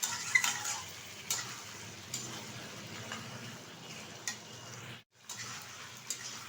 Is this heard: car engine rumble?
no